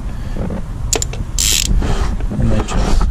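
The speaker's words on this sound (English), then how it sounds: "I got a 6-inch and then a 2-inch with my 3/8 ratchet and my spark plug socket, 5/8." A 3/8 ratchet with a 5/8 spark plug socket on extensions turns on a 2016 Jeep Patriot 2.4L engine, giving a few sharp close clicks and a brief metallic burst amid handling noise.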